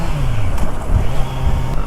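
A Kawasaki Z900 four-cylinder motorcycle engine running with a steady, loud, low droning growl and a slight rise in pitch, with no voices over it.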